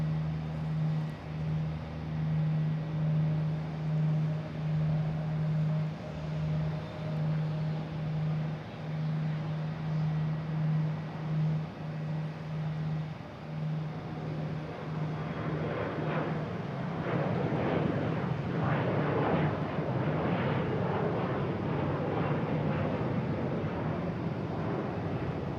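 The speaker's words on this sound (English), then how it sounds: "Next taking off, we have E175 for American Airlines heading to Buffalo." An American Airlines Embraer E175 takes off at Boston Logan. A steady engine drone with a low hum builds into a louder, rougher roar in the second half, with wind buffeting the microphone throughout and no talk.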